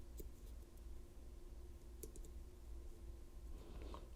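Lishi HU66 pick working inside a Volkswagen door lock, faint sparse metallic clicks over a low steady background hum, close but very quiet, no voices.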